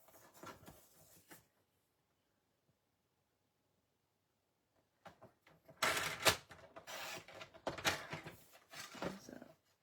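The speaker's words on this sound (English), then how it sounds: "I'm going to cut another strip" A strip of paper for a handmade card gets trimmed with a crisp, close slicing rasp, then a long silent pause, then a busier run of cutting and paper rustling.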